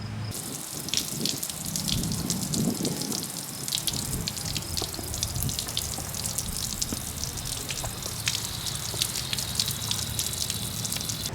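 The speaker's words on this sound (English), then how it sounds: "you're going to want to turn on your water" Steady rush of water running from a garden hose, splashing continuously, with faint drips and no voices, while an outboard motor is run on land.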